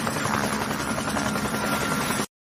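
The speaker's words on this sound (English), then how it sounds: "A helicopter." Steady, loud whirring drone of a helicopter's rotors and engine, constant throughout and ending abruptly.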